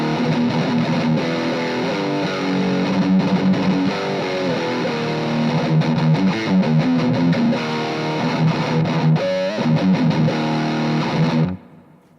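An electric guitar played through a distortion or overdrive pedal into an amp, dense and loud with sustained chords and riffs, ringing out continuously before cutting off abruptly near the end.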